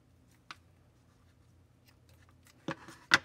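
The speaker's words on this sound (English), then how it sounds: "now I'm going to cut off the excess." Scissors snip off excess material on a miniature craft broom: a few sharp, quiet cuts, one early and two close together at the end, in a quiet room.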